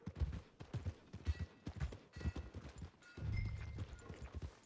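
Horse hooves clip-clopping in the video game Red Dead Redemption 2, a steady, moderately close walking rhythm of soft thuds that carries on throughout.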